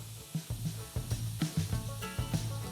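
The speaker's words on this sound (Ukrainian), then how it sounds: "Тушкуємо овочі з вином, допоки алкоголь весь не випарується." Onions and button mushrooms stew in a pan with dry white wine. A bubbling sizzle runs under a series of quick scraping stirs and soft knocks, close and fairly quiet.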